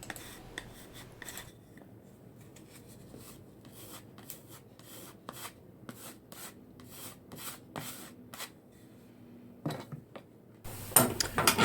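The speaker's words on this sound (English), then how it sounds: "getting the wood filler out and filling all of the holes in all the pieces of wood" Repeated short scraping strokes of a putty knife spreading wood filler, close and fairly quiet, with brief pauses between passes.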